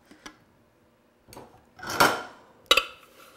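Cheesecake crust crumbs dumped from a container into a pan sprayed with nonstick cooking spray, heard as a few brief clattering taps and a short rushing pour, close and alone with no talk.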